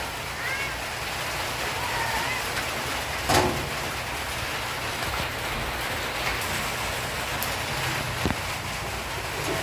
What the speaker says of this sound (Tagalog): pagsilong ka, umuulan